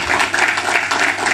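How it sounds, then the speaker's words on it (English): Audience applause at an independence lecture organized by a prime minister's office, a short burst of loud, dense clapping heard close up. "another round of applause for His Excellency"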